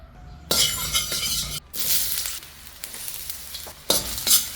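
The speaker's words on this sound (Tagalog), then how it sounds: "Magisa na tayo dito ng ating sibuyas at bawang." Onion and garlic sautéing in a pan for no-bake Filipino macaroni, bursts of loud hissing sizzle broken by short pauses and metal clinks of stirring, close up with no talk.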